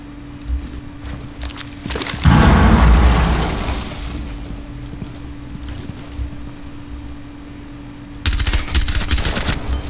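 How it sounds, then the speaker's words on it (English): A Thermite breach charge in Rainbow Six Siege erupts with a loud, burning blast that roars and slowly decays, framed by scattered bursts of gunfire before and a sudden volley of shots near the end. "Thermite outside the bathroom."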